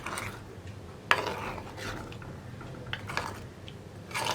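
A spoon stirring sweet pachadi, a Kerala-style side dish, in a pot: soft scraping and light clinks of metal, with one sharper knock early on, quiet and close.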